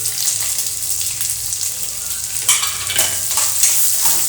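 Dried red chilies, curry leaves and onion fry in oil with a loud, continuous close sizzle, swelling with bursts of crackling as the pieces are stirred.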